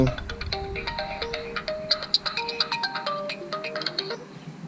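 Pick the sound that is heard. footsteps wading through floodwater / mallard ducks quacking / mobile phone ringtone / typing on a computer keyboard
mobile phone ringtone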